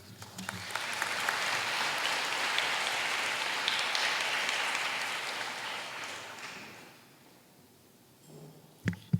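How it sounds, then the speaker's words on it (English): Audience applause at an anniversary gala in St. Louis, a dense, sustained clapping from a large crowd that swells, holds for several seconds, then fades away, followed by a few faint knocks. "Let's give one more round of applause to Peter and the Tao family."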